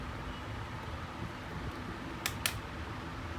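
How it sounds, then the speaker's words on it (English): A hot air rework blower used to desolder ICs from a MacBook motherboard gives a steady, faint airy whoosh, with two brief sharp clicks near the end. "what we generally use to remove those ICs is this kind of blower, which let us get heats up to like 600"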